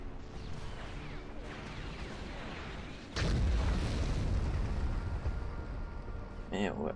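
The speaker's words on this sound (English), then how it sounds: "Missiles away." Missiles launching and exploding in the Star Wars: Empire at War strategy game, a low rumbling battle din that swells into a louder sustained booming blast midway, with distant game effects and a voice speaking.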